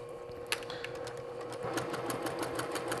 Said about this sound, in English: we're going to sew through here just like this